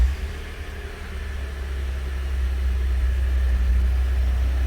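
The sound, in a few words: 2012 Ford F150 engine starting and idling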